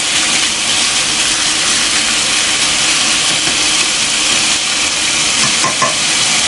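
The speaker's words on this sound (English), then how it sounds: "I'm gonna let this fry up a bit." Chicken pieces fry loudly in a pan, browning for a Japanese cream stew, with a dense, continuous close-up sizzle and occasional stirring scrapes.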